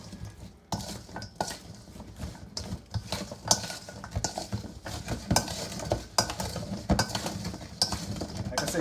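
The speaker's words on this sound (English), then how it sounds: "I'm gonna just go right in with the spoon and mix all this up" A spoon stirs seasoned salmon chunks and vegetables in a bowl, making a steady run of close scraping and clinking against the dish, with soft wet mixing underneath and no talking.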